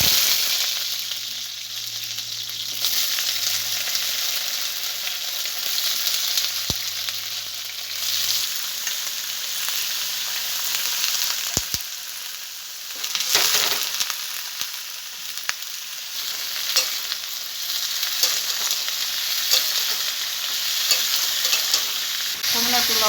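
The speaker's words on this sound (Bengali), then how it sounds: "আলু আর পেঁপে ভাজার জন্য আমি কড়াই সর্ষের তেল দিয়ে দিয়েছি। এবার এগুলোকে ভেজে নেব।" Potatoes and papaya fry in mustard oil in a wok, a steady bright sizzle running throughout with stirring scrapes and a few sharp clacks, close and fairly loud, with no talking.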